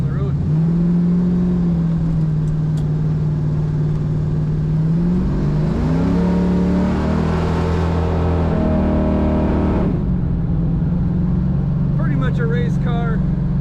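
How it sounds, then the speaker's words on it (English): A 1971 Chevrolet Camaro race car with an automatic transmission drones steadily up close, its engine note rising and falling through a rev around the middle, with a speaking voice at the end. "A race car, lots of power in this car."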